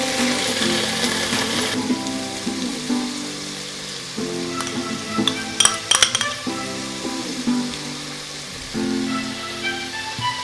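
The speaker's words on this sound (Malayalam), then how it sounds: "നന്നായിട്ട് ഇളക്കാം." Chicken pasta with ketchup and mayonnaise is stirred in a pan, with a metal utensil clinking and scraping against it over a soft sizzle and faint background music.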